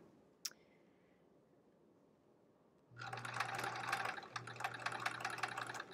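A sewing machine runs steadily while stitching a quilt block, with a rapid, even mechanical clatter that pauses briefly before resuming, preceded by a single sharp click.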